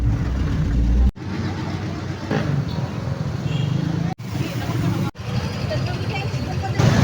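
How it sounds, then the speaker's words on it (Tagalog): Steady road traffic near Talisay Cemetery, with cars and other vehicles rumbling past continuously at moderate distance, the flow broken by a few brief cuts, and people's voices murmuring in the background. "traffic ayo diri no"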